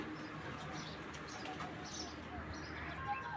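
Large racing pigeons, including a grizzle, coo in low, soft, continuous murmurs from several birds at once, with a faint wing flutter or two mixed into the steady background.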